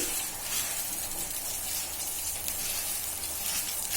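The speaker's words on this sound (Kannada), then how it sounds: "ಇದು ನೋಡ್ರಿ ಚೆನ್ನಾಗ ಎಣ್ಣೆ ಹಾಕಿ ಹುರ್ಕೊಂಡಿದ್ದೀನಿ ಕೆಂಪಾಗಿ." Vermicelli (shavige) being fried in oil until reddish for upma: a dense, steady, hissing sizzle that stays loud and even throughout, with no voices.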